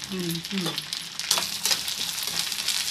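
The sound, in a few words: curry leaves frying in oil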